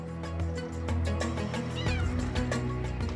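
A Bengal cat meows repeatedly at close range, with drawn-out, wavering cries over a steady background.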